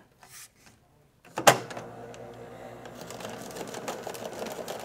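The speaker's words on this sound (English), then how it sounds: "You can hear it working on those sheets of paper and the staples." A Swingline Stack and Shred paper shredder chews through stapled sheets, starting with a sharp bite and then grinding steadily and close-up for several seconds.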